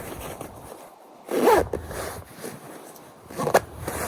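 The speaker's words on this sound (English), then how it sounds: "we get an open pit vent, and they have 2 zippers on them, so you can kind of adjust the hole" A zipper on the pit vent of a TREW popover jacket makes two quick, close zipping runs a couple of seconds apart, separated by soft fabric rustle.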